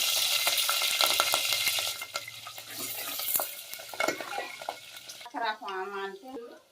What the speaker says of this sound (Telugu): అల్లం పేస్ట్ వేడైంది, మిరపకాయలు వేస్తాను